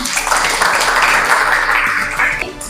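A group claps together, loud and close, in a continuous burst that cuts off abruptly near the end, with a low hum underneath.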